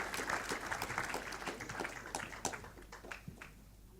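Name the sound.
applause for a film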